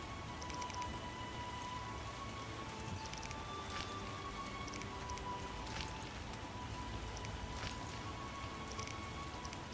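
Steady rain in the video game The Witcher, a constant soft patter of drops with occasional sharper splashes, quiet and unbroken beneath faint tonal game ambience.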